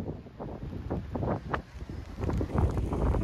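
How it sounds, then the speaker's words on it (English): Strong gusty wind blows near a storm squall line during a tornado warning, buffeting the microphone in loud uneven rushes and thumps that swell and ease, with a faint distant roar beneath. "You can hear the stronger wind off to the southwest."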